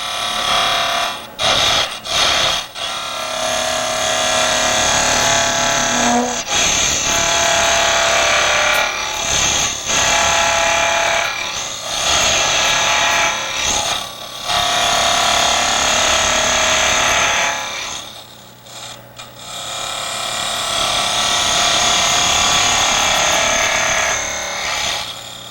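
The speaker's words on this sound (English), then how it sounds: "I can use the scraper and go straight in and on the sides and clean that up a little bit." Scraper cutting along the sides of a turned wooden lid on a spinning lathe, a continuous close rasping scrape with a few brief pauses and no talk.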